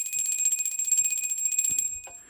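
A bright electronic bell rings on a live tarot reading stream, a sustained high chiming tone lasting about two seconds before cutting off, then a brief softer sound follows.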